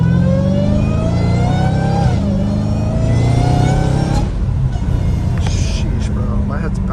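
A Dodge Hellcat Redeye with a cat-back exhaust drones loudly, revving and shifting pitch as it accelerates under a voice talking throughout.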